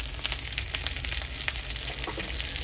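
An egg fries in a hot pan after a splash of water is added to steam the white firm, giving a steady, close crackling sizzle with dense popping and hiss throughout.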